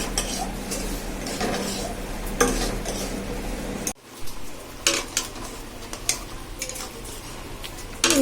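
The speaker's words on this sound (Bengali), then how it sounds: "বাজার আমি এখন এখানে আলু কষা রান্না করছি।" Potato curry (aloo kosha) being stirred in a pan, with repeated spoon scrapes and clinks over a soft sizzle that cuts off halfway, then irregular stirring knocks.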